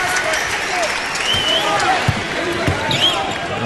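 A basketball crowd at a Gonzaga at Wake Forest game applauds a substitute checking in. The clapping spreads across the arena as a broad wash, with a commentator talking over it and occasional ball bounces.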